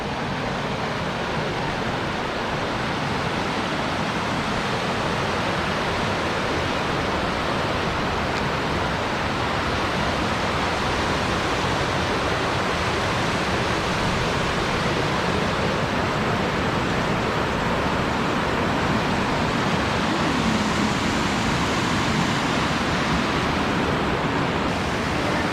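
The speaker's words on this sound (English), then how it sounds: "A small little waterfall." A small waterfall in Ontario crown land rushes steadily and loudly at close range, a constant broadband roar of falling water with no break.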